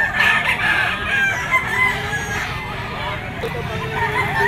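A bull stag rooster crows amid a noisy pet market, other fowl clucking and calling nearby under a steady murmur of crowd and talk.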